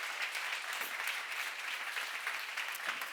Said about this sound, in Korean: 박수 세게 쳐요.